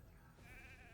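A single sheep bleat sounds in Raid: Shadow Legends as the sheep control effect is triggered, a short wavering tone over a low steady game background, fairly clear and alone.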